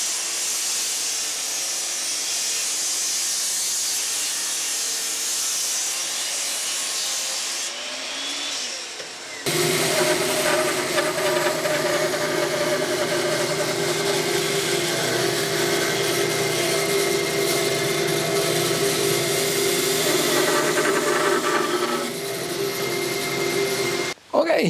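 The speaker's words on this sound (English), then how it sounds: "After I chopped this piece on the miter saw" A miter saw set to 15 degrees cuts wood in a home workshop: a loud, close, steady motor whine with harsh cutting noise that holds for about fifteen seconds after a quieter hiss, then stops abruptly.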